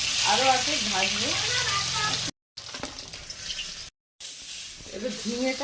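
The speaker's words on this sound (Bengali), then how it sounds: "মাছ ভেজে নেবো।" Rohu fish frying in hot oil, a continuous bright sizzle with a voice talking over the first half, then quieter spitting and kitchen clatter after two brief dropouts.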